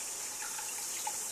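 Rusty water from a bore-pump-fed tap gushes and sputters in a steady close hiss with faint uneven bubbling, no voices.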